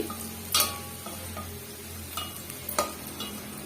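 Garlic frying in oil in a pan for a South Indian garlic pickle, with a steady low sizzle under sharp scraping strokes of a spoon stirring it, several separate scrapes spaced through the clip.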